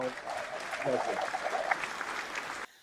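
Studio audience applause greets the guest Yaroslav Tsyhanii on a Ukrainian talk broadcast, a steady wash of clapping under faint voices for under three seconds before cutting off abruptly.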